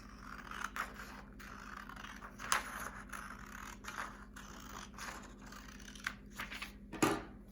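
Scissors cutting through a paper gift box, giving close, intermittent snips and rustles with a couple of sharper clicks near the end, no talking.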